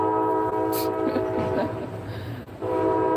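A loud, sustained train horn blares over the rumble of a passing train, briefly dipping before swelling again near the end.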